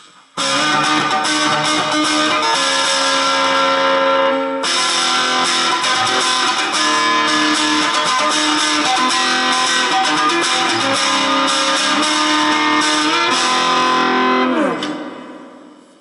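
Distorted electric guitar chords ring out continuously through the plate reverb of a Yamaha DG Stomp, washed in a bright, springy reverb tail, with a brief break near the middle and a fading decay at the end.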